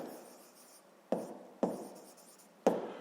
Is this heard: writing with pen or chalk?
yes